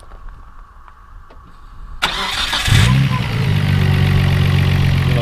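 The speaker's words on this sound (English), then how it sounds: "We'll go ahead and start it up so you can hear it run." A 1990 Nissan Skyline GTR twin turbo engine cranks with a sharp starter whir, then catches and settles into a steady, loud, close-up idle; a faint ticking comes before the start.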